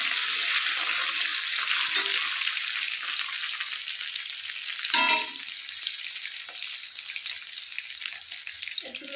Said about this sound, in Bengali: আলুটা কতক্ষণ ভাজবা সিদ্ধ আলু তো বেশি সময় ভাজবো না